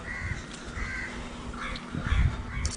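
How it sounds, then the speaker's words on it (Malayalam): Several crows caw near their nest in a tree, repeated harsh calls at moderate distance over a low outdoor hum, with some rustling and bumps close by. "ഫ്രണ്ട്സ് കാക്കകൾ വന്നു തുടങ്ങി"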